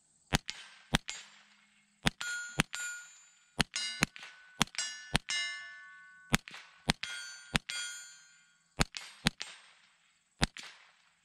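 Sharp metallic clangs from bullets striking steel silhouette targets on a shooting range, roughly seventeen crisp impacts in irregular bursts, each ringing out briefly, with no talk.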